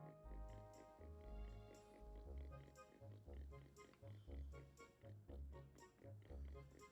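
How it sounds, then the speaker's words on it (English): A pig oinks repeatedly in The Legend of Zelda: Wind Waker, short grunting snorts over the game's rhythmic background music. "Pig."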